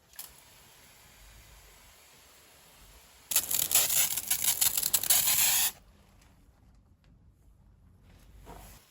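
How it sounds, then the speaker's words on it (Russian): A burst of plain water sprayed onto untreated car glass: a loud, hissing rush lasting about two seconds after a quiet stretch, then cutting off to near silence with a faint click at the end. "Распылим сначала дождем на необработанное стекло."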